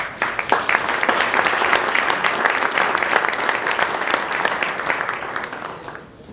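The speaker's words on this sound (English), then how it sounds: "You all deserve a round of applause for your success" Loud, dense applause from an audience at a formal gathering, steady clapping filling the room for about six seconds before tapering off at the end.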